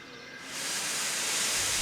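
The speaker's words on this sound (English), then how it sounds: "James let off steam" A steam engine lets off a hard hiss of steam that swells after a brief moment and holds steady and loud, a broad rushing roar with no voices.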